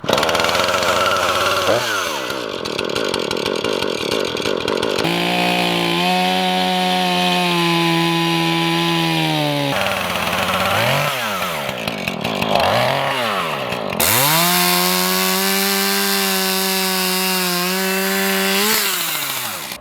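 A chainsaw engine revs and whines loudly, rising and falling in pitch as it bites through wood in several long cuts, close by.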